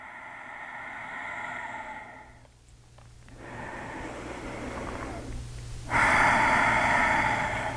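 Ujjayi yoga breathing comes in slow, audible breaths, a long hissing, ocean-like exhale and inhale drawn through the throat, close and steady, with a short quiet gap between cycles and the final breath strongest.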